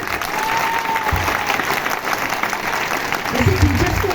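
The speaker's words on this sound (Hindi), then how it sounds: "तो टीचर्स के नाम पे भी ताली बजा दो एक बार।" Students and staff clap for their teachers at a government co-ed senior secondary school, a sustained crowd applause that holds steady and swells slightly near the end, with some background voices.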